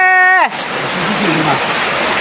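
Heavy rain pours down in Yangon, a dense, steady hiss that fills the scene right after a brief voice at the start and continues loud and unbroken.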